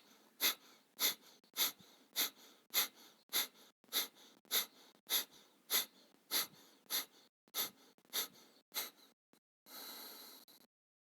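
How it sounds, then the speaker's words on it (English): Rhythmic, forceful exhalations through the nose during a yoga abdominal exercise, about sixteen sharp evenly spaced puffs close to the listener, ending with a longer breath. "push the abdomen in and out while exhaling through the"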